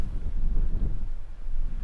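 Wind gusts buffet the microphone on a windy hillside near an old windmill on La Palma in the Canary Islands, a loud, continuous low rumble with no talking.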